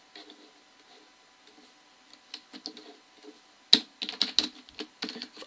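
Computer keyboard keys are tapped while entering Excel formulas, starting as faint scattered clicks and turning into a denser, louder burst of close typing in the second half.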